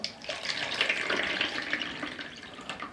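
Warm water splashing and gurgling steadily as it pours into a bowl for pampushky dough, close by and fairly loud, with no voices.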